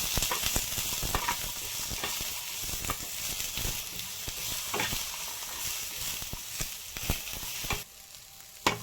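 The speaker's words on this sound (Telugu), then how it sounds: "అదే ప్యాన్లో మనం కట్ చేసి పెట్టుకున్న ఆనియన్స్ను కూడా వేయించుకోవాలి." Chopped onions sizzle and crackle in a little hot oil in a pan, a steady close frying hiss broken by stirring scrapes, with no voices.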